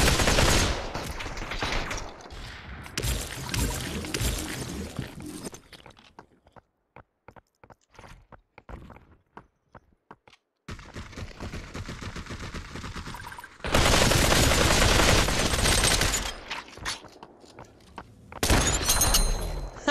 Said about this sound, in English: Then I'm just gonna have to use my AK here.